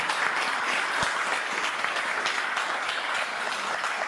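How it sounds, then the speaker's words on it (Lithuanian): At a school Christmas concert, an audience gives steady, dense applause for teacher Aivaras Mundinas, the clapping sustained throughout the hall. "Aplodismentai jam, kurie visi koncertuoja."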